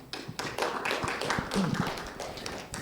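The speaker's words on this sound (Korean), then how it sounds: "박종훈 변호사님을 큰 박수로 모시도록 하겠습니다" An audience at a Korean forum on discrimination and religion applauds to welcome a lawyer to speak, a dense steady patter of many hands clapping indoors for a few seconds.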